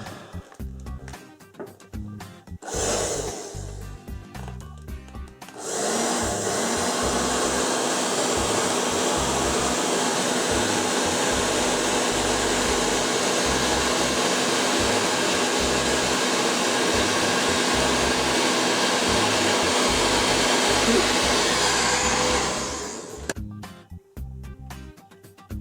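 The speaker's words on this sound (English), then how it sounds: "Bit of hair dryer." A hair dryer blows steadily and loudly for about seventeen seconds while someone applies a vinyl wrap to a DJI Mavic Mini drone, with quieter handling noises before it switches on and after it stops.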